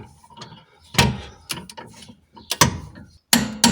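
A ratchet wrench tightens the rear suspension bolts on an Alfa Romeo, giving close metallic clicks and clunks in irregular short bursts separated by pauses, with no talking.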